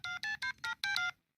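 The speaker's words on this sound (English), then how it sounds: "I'm gonna call Mahmoud right now on this cell phone he gave me." A cell phone being dialed: six quick keypad tones in an even rhythm, clear and close, with the last two running together before silence.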